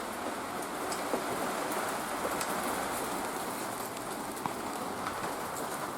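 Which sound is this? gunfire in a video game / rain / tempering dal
rain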